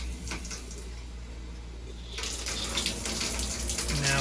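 An RV shower faucet is opened to run pink antifreeze through the water line: a steady hiss of flowing liquid swells into a louder, fuller gush partway through, running continuously with no talking.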